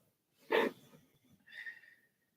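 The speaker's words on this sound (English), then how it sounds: "My dog's like snoring her ass off over here." A sleeping dog gives a single close, rough snorting snore, followed by a softer, higher wheezy exhale, in an otherwise quiet room.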